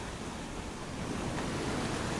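Sea waves wash against a rocky coastal ledge in a steady, broad roar of surf, with wind rushing across the microphone and a slight swell in loudness toward the end.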